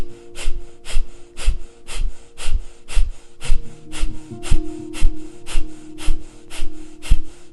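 Breath of fire during a breathwork session: rapid, forceful nasal exhalations at a steady rhythm of roughly two per second, close and loud, with sharp snorting puffs continuing throughout over a faint background hum.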